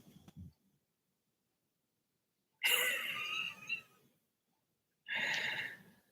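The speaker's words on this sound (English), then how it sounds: "She's snoring so loud and wagging her tail." A sleeping, dreaming dog snores close by: a short snort, a long pause, then two loud raspy wheezing snores separated by silence.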